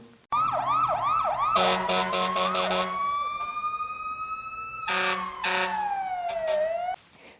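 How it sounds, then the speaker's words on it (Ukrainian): A loud fire engine siren wails close by, rising and falling in quick yelps, then a sustained tone, with blaring horn blasts cutting in. "Коли пожежна машина їде по дорозі, її не тільки видно, але чутко, чутно сирену."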